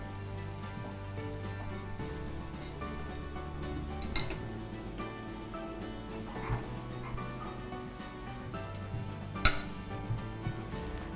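Ghee sizzling in a pan while ravva burelu are being made, a steady low crackle with occasional metallic clinks of a utensil against the pan, close and moderately quiet.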